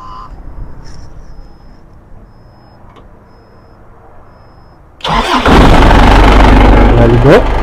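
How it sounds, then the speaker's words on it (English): A car engine with a low-voltage battery cranks and catches, roaring loudly to life after several seconds of quiet background noise, then idling close by. "I think right now I can go ahead and start my engine"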